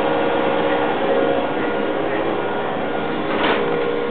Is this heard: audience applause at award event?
no